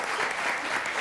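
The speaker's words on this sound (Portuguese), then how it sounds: "Eu entrego as palmas." Applause fills the room steadily for about a second, loud and dense, as an audience claps after a TV education debate segment.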